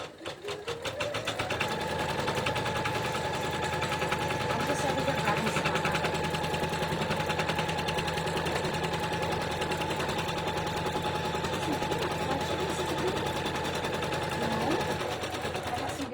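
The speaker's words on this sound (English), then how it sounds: "let's put the presser foot down. Let's start." A sewing machine runs steadily while stitching fabric flower fluffy puffs, a continuous close, loud mechanical whir with rapid needle chatter that holds for the whole stretch after a brief start-up.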